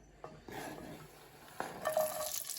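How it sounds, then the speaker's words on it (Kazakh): Onion and sweet pepper frying in hot oil in a pan: a quiet, steady sizzle broken by scraping stirs and light metallic clinks from a utensil against the pan. "Енді ыстық табаға қуырамыз."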